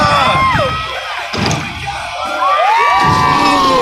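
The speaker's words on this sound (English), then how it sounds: "we need some encouragement from the crowd" A crowd at a BMX stunt show at the Kentucky Exposition Center cheers and shouts loudly, with whoops and high children's screams swelling and dipping across a few seconds.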